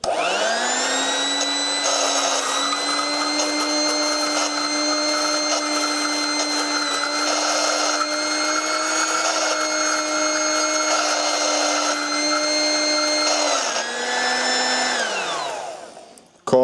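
A homemade spinning rig's electric motor whirs steadily with sand and water inside, a loud, even tonal hum with harmonic whine that dips briefly near the end before spinning down and stopping.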